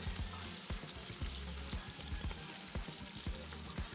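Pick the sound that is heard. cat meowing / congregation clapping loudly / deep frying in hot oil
deep frying in hot oil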